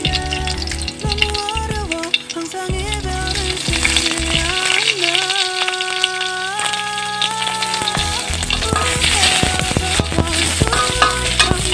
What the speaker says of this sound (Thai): ก็เคี่ยวกระเทียมนะครับ พอกระเทียมเริ่มเหลืองพลิกลงครับ